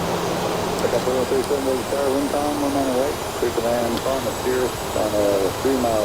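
Steady aircraft engine hum during taxiing in a flight simulator, continuous and moderately loud beneath someone talking throughout.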